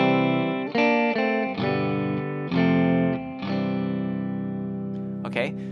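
Electric guitar with a distorted, effected tone plays the interlude of a song, sustained chords changing every second or so with ringing overtones, loud and up close, ending in a brief scratchy strum.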